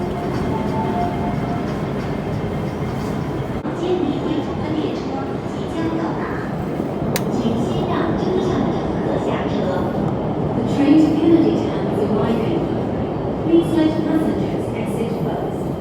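An MTR train running through Tai Koo Station, a steady low rumble of wheels and motors with brief squeals rising near the end, close and continuous, with a person talking over it.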